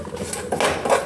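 Spiced peanuts are stirred in a metal pan, with short scraping and clinking strokes of a spoon against the pan, close up and uneven over about a second, with no voices.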